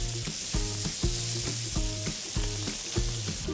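A steak sizzles steadily in a pan of butter and rendered fat while being basted, with repeated spooning clinks and scrapes in a regular rhythm over the constant close fry, no talking.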